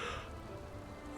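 Steady rain falls through the night in the fantasy game Enderal, a Skyrim mod, a soft continuous hiss with no voices.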